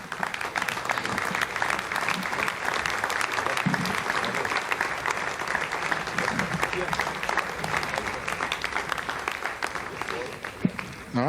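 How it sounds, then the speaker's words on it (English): Applause breaks out in the launch control room after satellite separation on an Ariane 5 launch, sustained clapping heard alongside voices and room chatter throughout. "you heard the applause"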